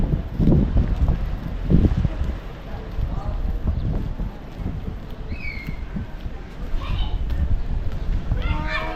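Cool wind buffets the microphone on a tour in Anda, Bohol, low gusty rumbles rising and falling through the whole stretch while voices talk over it.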